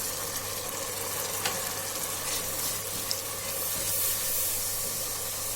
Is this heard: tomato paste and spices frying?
yes